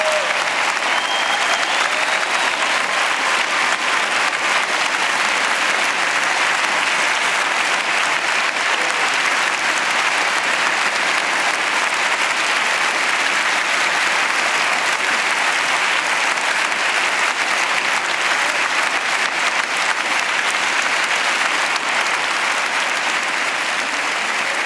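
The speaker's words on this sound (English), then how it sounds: "we're going to give you a round of applause wherever you are" Sustained, dense audience applause at the Prix de Lausanne 2017 finals ballet competition, honoring the semi-finalists, holding steady and loud for the full stretch with a broad crowd wash and no pause.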